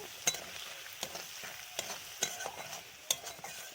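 Garlic paste fries in a pan for a pabda fish dish as a spoon stirs it, giving a soft, constant sizzle broken by regular scraping clinks of the utensil against the pan.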